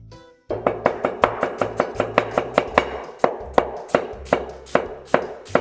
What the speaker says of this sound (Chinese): 把洋葱切成丝